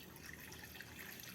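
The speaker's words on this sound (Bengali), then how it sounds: "এবার জল দিয়ে দিচ্ছি" Water poured into a wok in a home kitchen while making mochak paratha, a steady, close splashing and trickling stream that fills the whole short moment with no talk.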